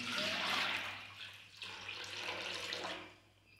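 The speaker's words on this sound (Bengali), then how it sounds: "এই জলটা এই পাত্রে ঢেলে নিই" Water from a small container pours into a vessel during a home morning puja, a close, steady splashing trickle that rises, dips briefly, then swells again before tapering off, with no talk.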